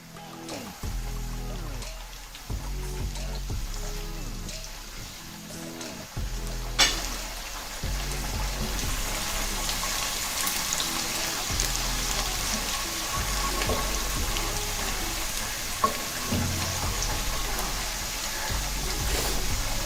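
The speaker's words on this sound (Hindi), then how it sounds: "2 से 3 खाने के चम्मच ऑयल, और चॉप लहसुन जो है वो फ्राई।" Chopped garlic fries in two to three tablespoons of oil for chicken Manchurian, a continuous sizzle with occasional stirring clatter and a low rhythmic thumping underneath, steady for about twenty seconds.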